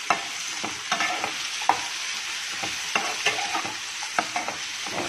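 Whole spices with coriander and red chilli being stirred in a hot pan for poha: steady sizzling with repeated scraping strokes and light taps from the spoon, close and clear, no voices.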